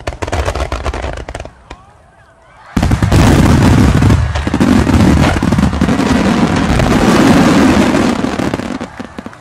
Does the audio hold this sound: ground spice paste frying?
no